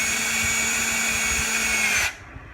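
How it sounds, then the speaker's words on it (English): Close, steady whine of a power drill driving a 5/16 hex head bolt on a trolling motor lower unit for two seconds, then cutting off abruptly into near silence. "I'm going to go ahead and get my drill"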